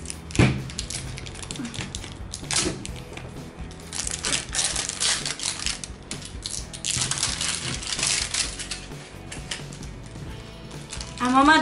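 A zippered plastic pouch from an LOL Glitter toy is opened up close, with continuous crinkling, rustling and crackling plastic.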